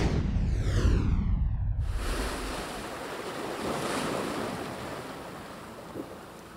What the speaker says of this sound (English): There's a certain familiar sound waves make as they rush to shore.